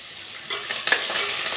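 Fresh, washed curry leaves dropped into hot frying oil for a vanjaram fish kulambu, setting off a sudden close crackling sizzle that jumps up partway through and keeps hissing steadily, with a few stirring scrapes.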